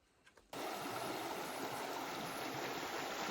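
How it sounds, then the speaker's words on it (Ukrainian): A mountain river in the Carpathians rushes past close by, a loud, steady, even roar of flowing water that cuts in abruptly after a brief quiet moment, with no voices. "Річка."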